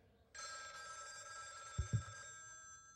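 A telephone bell rings in one sustained electronic trill, steady and moderately loud, with a couple of dull thumps partway through and no talking.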